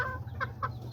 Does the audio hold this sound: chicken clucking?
yes